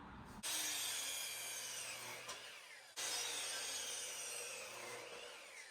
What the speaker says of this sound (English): Now we're going to be cutting the 4 4x4 posts for the legs of the arbor.